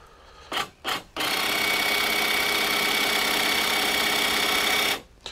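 Makita DUN500WZ telescopic pole hedge trimmer switched on after two short starts, its motor and cutter blades then running in a loud, steady, buzzing drone for several seconds before cutting off.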